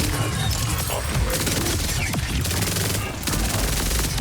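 Dense, continuous gunfire and chaotic combat noise in the video game Borderlands 4, with overlapping rapid shots throughout and a speaking voice mixed in.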